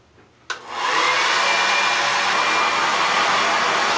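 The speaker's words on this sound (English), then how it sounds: "Since I'm broke, I use a 20-year-old hairdryer." A 20-year-old hair dryer clicks on and rises to a loud, steady whooshing hiss of blowing air that holds constant, close by.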